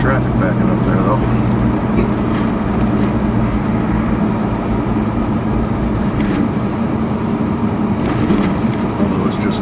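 Steady road and traffic noise from inside a moving car, a constant low rumble of engine and tires with passing vehicles, loud and continuous.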